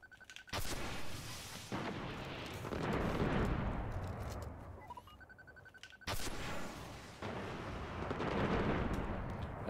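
Icebreaker sniper rifle shots in the video game Destiny, two loud, sharp blasts several seconds apart, each followed by a long rumbling tail of echo and game noise.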